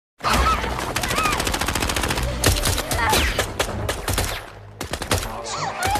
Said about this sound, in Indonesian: mereka tiba-tiba dihujani tembakan oleh anak buah Lloyd.